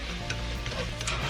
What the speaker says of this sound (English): just give that a little stir around for a minute